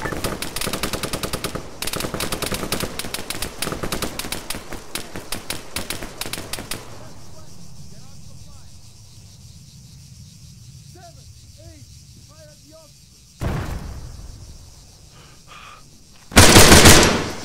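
Rapid bursts of machine gun fire in the Arma 3 military shooter, loud and dense for the first several seconds, then quieter ambience with a few faint calls before two sharp loud bursts near the end.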